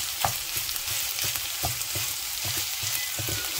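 Ground pork sizzling and crackling in a frying pan with very little oil, a dense steady hiss broken by regular scraping stirs roughly twice a second, close and continuous.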